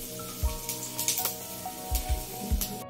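Panch phoron spices sizzle in oil while gently stirred, a crackling hiss with several low thuds and scrapes from the spoon, close and moderately loud.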